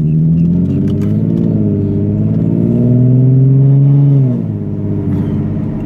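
A car fitted with a new Tomei exhaust idles at an early morning cold start, a steady deep exhaust drone that swells into a rise in revs and then drops back, loud and close with no talk.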